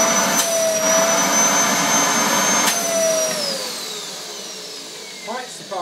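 A Hoover Dustmanager bagless upright vacuum cleaner runs steadily with a loud, close motor whine that drifts slightly in pitch before easing down near the end.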